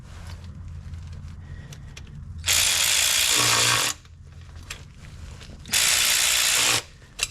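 Two bursts of a power ratchet or impact tool running down transmission pan bolts on a 2005 Mazda 3, each buzzing steadily for about a second, loud and close, with quieter workshop noise between.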